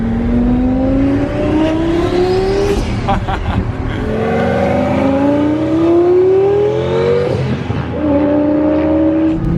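A Mercedes S600 V12 engine revs and accelerates repeatedly, pitch climbing steadily then dropping between gear changes, loud and close.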